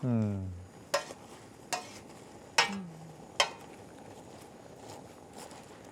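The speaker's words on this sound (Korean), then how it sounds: "그래도 한 번씩 이렇게 볶아주세요." Vegetables being stir-fried in a pot for a Korean soup, with a few sharp scraping strokes of a utensil against the pan over a low steady sizzle, preceded by a brief voice at the start.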